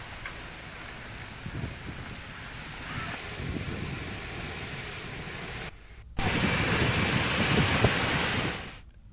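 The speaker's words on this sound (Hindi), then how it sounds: "बादल छाए रहने के बाद अचानक से आंधी और बारिश शुरू हो गई।" Unseasonal rain driven by a sudden strong wind storm after cloudy skies, a dense steady roar of rainfall and gusts that cuts out briefly, then returns louder before fading, with no voices.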